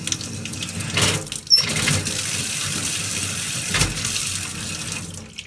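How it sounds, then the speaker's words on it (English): Water runs steadily from a sink faucet with a constant hiss, interrupted by a couple of brief knocks and clunks from air in the plumbing. "Water is on, we can hear it running into the system."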